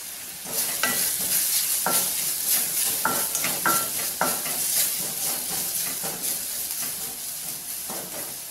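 Egg masala frying in a pan with only a little oil over low heat, a steady sizzle running throughout with repeated scraping strokes of a spoon stirring the mixture, close and fairly loud, no talking.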